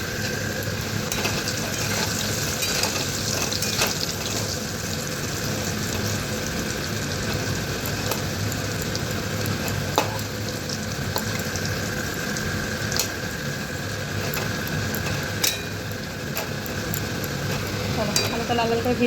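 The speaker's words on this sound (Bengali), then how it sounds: "হালকা ভাজা বসে দিয়েছি" Food fries lightly in a pan at home with a dense, steady sizzle that runs throughout, close and even, with occasional sharp ticks and clicks.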